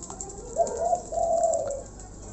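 A caged starling gives two short, soft, hooting calls close by, with a faint, steady background hiss.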